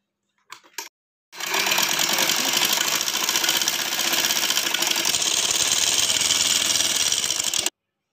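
A sewing machine runs steadily for several seconds, stitching lace onto cloth with a fast, even mechanical whir that starts after a few brief clicks and stops abruptly.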